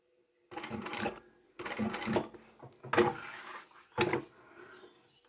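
Sewing machine stitching a beginner glasses case at 3.5 mm stitch length, back stitching at the end of the seam in four short bursts of whirring with brief pauses between.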